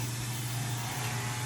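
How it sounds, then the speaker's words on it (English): A clipper vacuum drones steadily with a low, constant hum and broad airy hiss while a Maltese dog is groomed; the whir is loud and even, with no speech. "I started using the clipper vac, and I apologize for the noise if it's a little bit loud"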